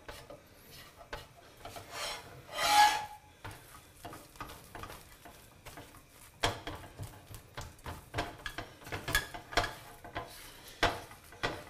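Spatula scraping cooked whey off a hot plate, a series of short rasping scrapes and strokes of uneven rhythm, close and fairly quiet, with one longer, louder scrape early on and no talking.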